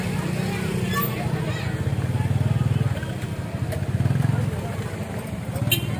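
Motorcycle engine idling and pulsing nearby in a rhythmic low putter, rising and falling through a few revs under background chatter and voices.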